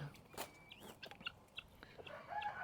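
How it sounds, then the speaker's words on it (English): Chickens cluck and call softly at a distance, with a higher bird note and scattered farmyard noises, fairly quiet overall. "These are Stephanie's chickens."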